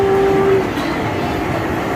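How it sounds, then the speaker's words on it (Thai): A small ride-on train rolls through a busy shopping mall, sounding a brief steady horn tone at the start over a constant rumble and crowd noise. "เจอรถไฟอีกแล้วรถไฟปุ้นปุ้น"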